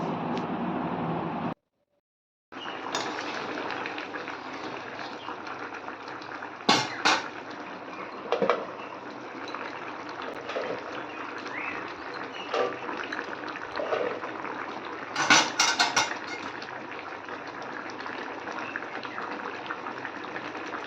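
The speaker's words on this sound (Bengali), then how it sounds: "আর এদিকে ঝোলটাও ফুটছে" Thin Bengali hilsa fish curry with potato and fried eggplant bubbling in a pot, a steady soft simmer of liquid that runs throughout, briefly cut out early and punctuated by a couple of louder clinks and splashes.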